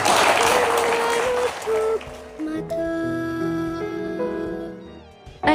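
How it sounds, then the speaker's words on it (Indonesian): A burst of broad clapping opens loudly for about two seconds, then fades away as sustained tonal music with held notes takes over and fills the rest. "Tepuk tangan buat dia."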